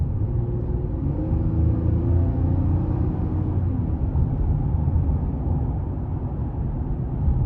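A 2021 GMC Canyon Elevation pickup with a 3.6 V6, 2WD and an 8-speed automatic, accelerating with the AC on; a steady, low engine rumble and road drone from inside the cab, even and moderately loud.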